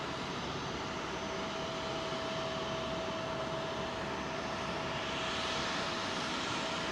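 An airliner at London Heathrow produces a constant broadband jet roar with a steady tonal whine that swells slightly toward the end, with no voices.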